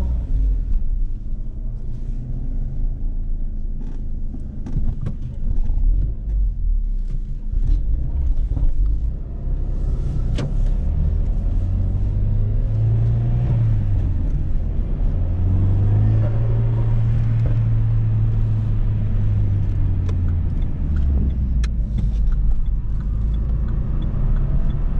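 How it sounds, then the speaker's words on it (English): A Renault Megane CUP 250 drives along with a constant loud engine rumble and road roar, and the engine note climbs and holds in the middle before easing back down. "So I'm just gonna take this Renault Megane for a drive"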